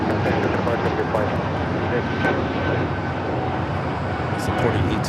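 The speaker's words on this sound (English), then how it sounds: "The A340 500 continuing its taxi down to" An Airbus A340-500 jet taxis at LAX airport, producing a loud, steady engine rumble and roar with a constant drone throughout. Talk runs over it.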